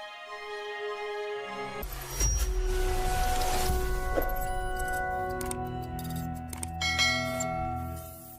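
Bright bell chimes ring out over a layered musical backdrop, a notification-style jingle with several clear struck tones and a sustained ringing tail, loud and close with no talk.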